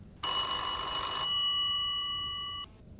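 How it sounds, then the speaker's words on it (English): A telephone rings once, a bright metallic bell trill that starts abruptly, rings loudly for about a second, then fades out over another second and stops, heard alone against quiet. "I was rolling again when the phone began to ring."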